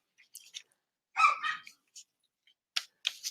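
Dogs bark in short, sharp bursts in the background, a few scattered yaps followed by a louder cluster and then more quick barks, with no talking over them.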